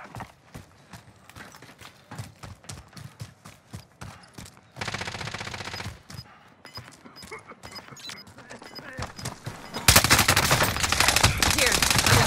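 Call of Duty: Modern Warfare battle gunfire crackles in rapid bursts of shots, loud and close, with a denser roar of automatic fire near the end and some background game sounds.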